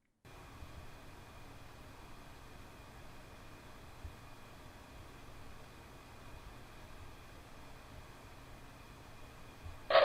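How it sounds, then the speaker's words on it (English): A Scythe Ninja 5 CPU cooler fan runs at full RPM, producing a faint, steady airy whoosh with a low tonal hum that holds constant throughout. "Let me give you guys a listen of how the Ninja 5 sounds at full RPM."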